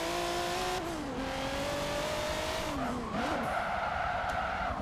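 A GT race car in Forza Motorsport 7 screams at high revs, its engine pitch dipping and climbing through gear changes while tires skid and squeal briefly; steady, close, game audio with no talking.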